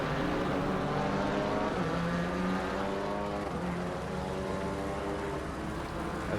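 GT4 race cars in Assetto Corsa Competizione drone on track, several engines overlapping with shifting pitch as they accelerate and change gear, steady and fairly loud without a break.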